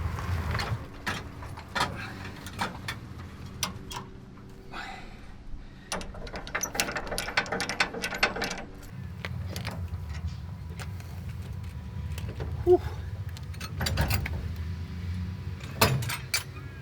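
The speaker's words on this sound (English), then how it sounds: "Thank God for high lift jacks." A high lift jack ratchets a car up on a sloping campsite, with a series of metallic clicks and creaks repeating unevenly at close range.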